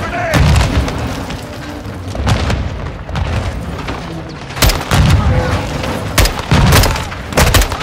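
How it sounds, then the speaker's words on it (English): Repeated grenade blasts and booming gunfire in a Call of Duty Modern Warfare 2 firefight, loud heavy impacts arriving in irregular bursts with shouted voices mixed in. "Incoming! Take cover! They're launching grenades!"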